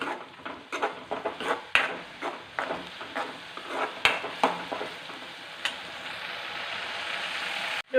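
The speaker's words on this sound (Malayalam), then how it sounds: "അതുവരെ ഒന്ന് ഇളക്കാം." Tomatoes sizzle in a frying pan while a spatula stirs them, making a series of sharp knocks and scrapes over a bright, constant frying hiss.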